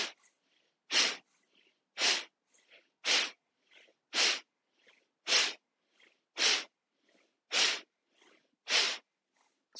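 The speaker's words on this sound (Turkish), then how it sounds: "Hazırsa karnımıza aldığımız bu nefesi sümkürelim." Repeated sharp, forceful nasal exhalations in Tibetan yoga breathing practice, like blowing the nose, about nine strong bursts in a steady rhythm roughly a second apart, close and loud with faint inhales between.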